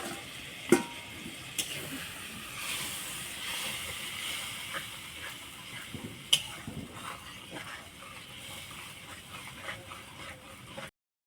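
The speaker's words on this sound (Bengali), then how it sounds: "বাটা মশলা ভাজা হয়ে গেছে" A ground spice paste fries in oil for a Bengali chicken curry, hissing softly and steadily with a few sharp clicks and scrapes of a spatula against the pan.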